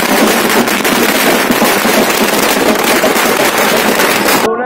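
Dense, loud firecrackers crackle nonstop in a rapid barrage at an outdoor Congress party victory procession in Budhni, Madhya Pradesh, cutting off abruptly at the end.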